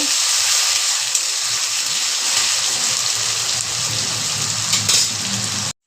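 Potatoes frying in hot oil until reddish for a traditional Bengali mocha ghanto with moong dal: a steady, dense sizzle and bubbling hiss, close and loud, continuing without pause.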